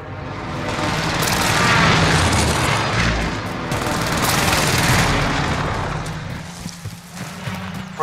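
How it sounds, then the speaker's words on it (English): Precision airstrike explosions in the video game Call of Duty: Modern Warfare, dense rumbling blasts and booms rolling on for several seconds, loud and close, with gunfire mixed in. "Precision airstrike missed."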